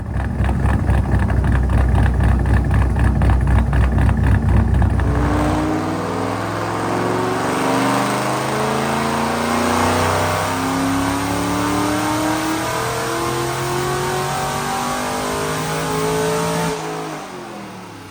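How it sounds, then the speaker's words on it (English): A 2010 Mustang GT with a manual 3V V8, Paxton supercharger and bolt-on mods, roaring loud and close on a dyno as it revs steadily upward through a long pull before cutting off near the end. "Check out this dyno pull."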